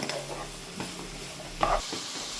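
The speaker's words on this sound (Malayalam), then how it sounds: "ഇനി നമുക്ക് ഇതിൻ്റെ അകത്തോട്ട് പച്ചമുളകും കൂടി ഇട്ടു. ഇതൊന്ന് വഴന്ന് വെക്കാം കേട്ടോ." Green chillies sautéing in a pan for samosa filling, with a soft steady sizzle and occasional stirring scrapes, close and moderately quiet, no talking.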